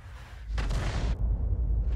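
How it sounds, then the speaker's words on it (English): A shell explosion in the World of Tanks game, heard as a sudden loud boom of broadband noise that holds for about half a second and then settles into a lower rumble that keeps going. "Well, we got an explosion"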